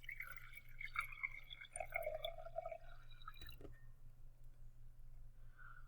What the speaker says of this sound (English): Now we're going to pour water into 1 cup.